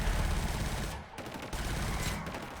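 Sustained rapid gunfire at a riot shield in the video game Killzone: Shadow Fall, loud close bursts with two brief pauses, in a dense mix of in-game combat noise.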